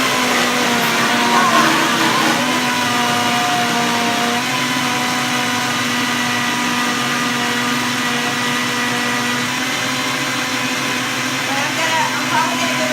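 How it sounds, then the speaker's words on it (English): A vintage Vitamix blender whirs loudly and steadily while blending a vegan cheese of potatoes and carrots, its motor tone shifting slightly as the load changes, with a voice speaking faintly underneath. "Now I think we are ready to blend."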